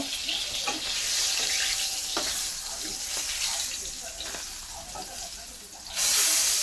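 Rohu fish pieces frying in hot oil in a pan give a steady, close hiss and sizzle with scattered crackles and clicks, which swells louder near the end.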